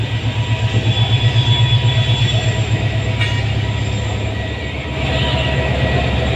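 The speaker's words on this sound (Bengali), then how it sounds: "৩০৮ লোকোমোটিভ ইঞ্জিন।" A new American-built Bangladesh Railway locomotive pulls out, its diesel engine throbbing loudly and rhythmically at first, then settling into a steady heavy rumble with rolling rail noise, close by.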